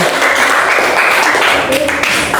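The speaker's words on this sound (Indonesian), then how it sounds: "Oke, tepuk tangan untuk Mbak Nada." A classroom of children applauding, dense steady clapping that fills the whole short stretch, loud and close.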